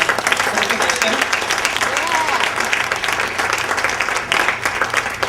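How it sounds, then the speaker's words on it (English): A crowd at an African American recognition dinner in Hamtramck gives a loud, dense round of applause that runs continuously without pause, with some crowd voices mixed in. "So one more round of applause to the bank and to the commission."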